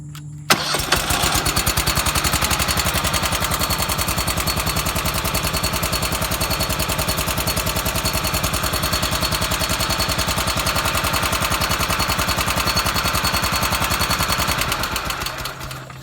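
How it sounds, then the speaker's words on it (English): A John Deere F620 60-inch mower engine, already warm, cranks briefly and catches almost at once, then runs loud and steady at close range with a rapid, even firing beat until it cuts off near the end. "So you can see when it's warm, it cranks right off."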